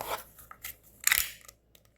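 Masking tape being cut and pulled on a Kydex holster mold: a few short, close snips and crinkly tearing bursts, then quiet.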